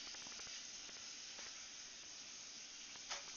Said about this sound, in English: that was a pretty solid sizzle.